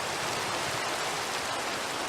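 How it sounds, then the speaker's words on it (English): Steady rain hiss from the video game Minecraft, an even wash of falling drops at low level with no voices. "The sound of the rain is driving me crazy."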